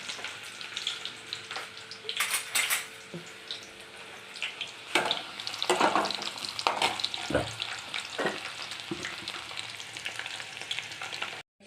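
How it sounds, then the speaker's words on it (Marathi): Sliced onion frying in hot oil in a kadhai for a Marathi brinjal dish, a crackling sizzle with irregular scrapes and stirring clatter, a loud burst when the onion goes in, and a few louder knocks near the end. No speech. "कांदा टाकत आहे."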